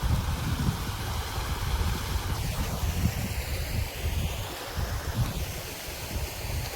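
A rain-swollen village stream runs outdoors during ongoing rain, a steady, dense rushing and splashing wash of water that stays constant throughout, with no voices.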